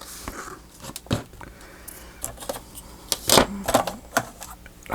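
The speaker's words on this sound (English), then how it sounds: "I'm going to see if I can go ahead and cut it down." Paper belly band for a travelers notebook envelope journal being cut down, a few short crisp snips and crunches scattered among quiet handling noises, close and fairly soft.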